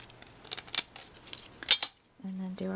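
Scissors snipping through card stock during Mother's Day card-making, a few short crisp cuts close by, followed by a brief tonal hum at the end.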